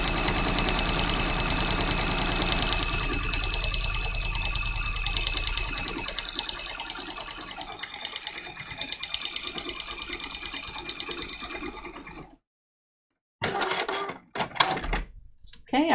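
Steady mechanical whirr and rapid clatter of a sewing machine stitching at a short stitch length on a quilted notebook cover, running continuously and close, then stopping with a few brief bursts.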